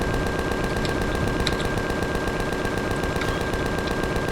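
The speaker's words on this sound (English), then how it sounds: "Oh gosh, it's launching rockets at us." Steady dense rapid-fire barrage of rocket and weapon fire in the video game Empyrion, a continuous loud rattling roar with faint sharper bursts, no letup throughout.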